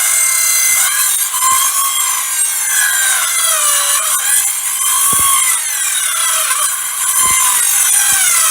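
A worn saw blade cuts through wood in a garage, a loud continuous rasping stroke with a shrill whine above it, running steadily for several seconds with brief pauses and no talk.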